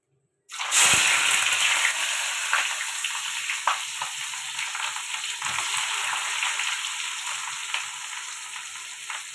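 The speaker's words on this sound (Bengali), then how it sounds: "ফোড়ন দিয়ে দেবো শুকনো লঙ্কা, তেজপাতা দিয়ে দেবো, পেঁয়াজ," Dried red chillies, bay leaves and onion dropped into hot oil as a tempering for ghugni, bursting into a sudden loud sizzle that crackles on steadily and slowly eases, close up and without talk.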